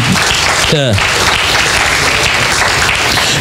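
Loud, sustained hand clapping fills a church service as the congregation claps to the Lord, a brief rising voice cutting through near the start while the clapping carries on unbroken.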